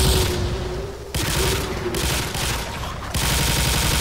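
Rapid gunfire in the zombie shooter Left 4 Dead 2 rattles out in loud, sustained bursts broken by short pauses, with no talking over it.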